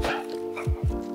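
A puppy gives two short, low yips or barks in quick succession, close by, over a steady hum of background tones.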